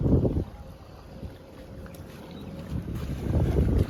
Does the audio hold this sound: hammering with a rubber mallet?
no